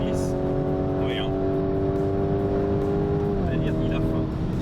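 Lamborghini Urus Performante engine droning at high revs from inside the cabin, a sustained steady tone that holds and then dips as the gearbox shifts, with voices talking over it.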